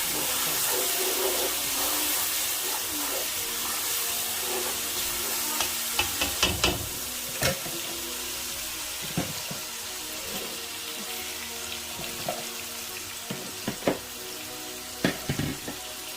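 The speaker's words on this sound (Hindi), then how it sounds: "कितना ही मज़े का देखेंगे रोस्ट हो रहा है।" Chicken and chopped cluster beans roast in a hot pan, a steady loud sizzle and fry with occasional sharp clinks and scrapes of a stirring spoon, no talking.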